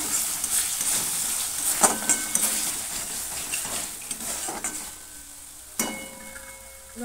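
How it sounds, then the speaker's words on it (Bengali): Spices fry in oil after garam masala is added for a Bengali dum aloo, with a soft continuous sizzle and scattered scrapes and knocks of a spoon stirring the pan, one sharper clack near the end. "মশলা থেকে তেল ছেড়ে গেছে, অল্প একটু গরম মশলা দিয়ে দিচ্ছি, দিয়ে আবারও ভালো করে মিশিয়ে নেব।"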